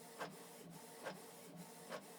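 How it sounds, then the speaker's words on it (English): A Canon MG2556S inkjet printer runs a single-page print job, with three regular mechanical bursts about a second apart over a steady whirring drive, close and moderately loud. "So this document is going to print single page."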